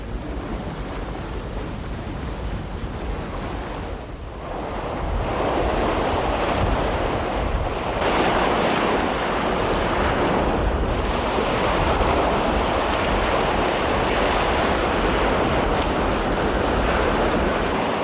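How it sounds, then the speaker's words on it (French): Strong gusting wind roars across a French beach over steady crashing surf, with microphone buffeting throughout and no voices, a continuous loud wash of wind and waves. "le vent est trop fort maintenant"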